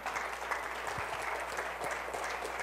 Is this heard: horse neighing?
no